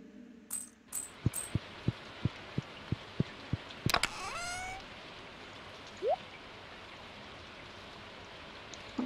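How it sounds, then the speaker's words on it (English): Rain falls steadily in the farming video game Stardew Valley, a soft continuous patter under a series of evenly spaced clicks and a brief rising chime, with no voices. "And it's rainy."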